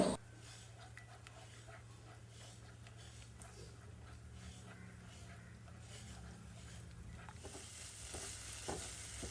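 Egg with vegetables, salt and pepper gets scrambled in a pan, making a faint, steady sizzle with light scraping and stirring, a low hum underneath, and a brief knock at the start.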